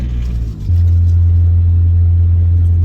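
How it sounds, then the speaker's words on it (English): Honda Del Sol with a D16 engine idling low and steady, then rising into a loud, sustained rev whose deep drone holds close and constant to the end. "kind of want to see what this D16 will do, because it sounds good"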